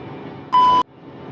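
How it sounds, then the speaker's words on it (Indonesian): A single steady cockpit alarm tone sounds for about a third of a second in a reconstruction of AirAsia flight 8501, loud and clear over a low engine-like rumble. "alarm berbunyi untuk yang keempat kalinya"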